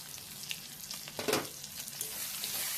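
Spices sizzle and fry in oil in a kadai, with ginger-garlic paste, tomato, cumin, turmeric and chili powder, while onions cook for a fish curry. The sound is a steady close crackle with a few louder stirring scrapes.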